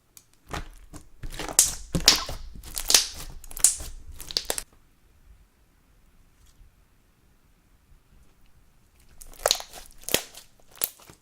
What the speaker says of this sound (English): This lavender purple slime created excellent clicking sounds while poking